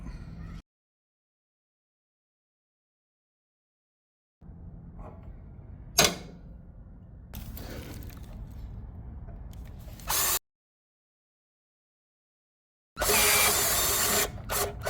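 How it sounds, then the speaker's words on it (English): A power drill bores pilot holes into the metal of a Z-Grill, several short whirring bursts with creaking and ratcheting between long silent pauses, the last burst harsh and loud. "Now let's drill some pilot holes."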